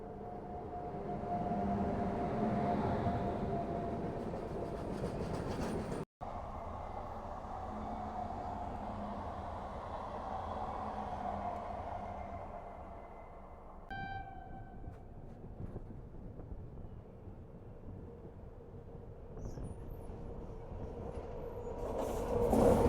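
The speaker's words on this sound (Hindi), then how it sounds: "हमारी ट्रेन रुक चुकी है और महामना अब हमें ओवरटेक करने वाली है।" Mahamana Express passing alongside a halted Sadbhavana Express train, a steady low rumble and rolling clatter of wheels on rails that continues for over twenty seconds, swelling louder toward the end.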